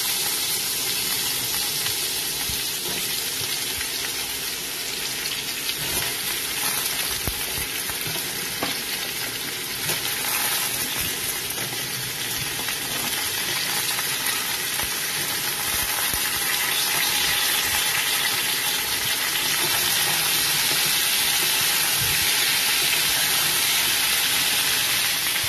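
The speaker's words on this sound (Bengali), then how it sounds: "তারপরে কচুরমুখী আলু সব কিছু দিয়ে একটু নাড়াচাড়া করবো" Taro (kochurmukhi) and potato with a little turmeric fry in a pan, a steady dense sizzle running throughout with the rustle and scrape of stirring mixed in, close and fairly loud, no voices.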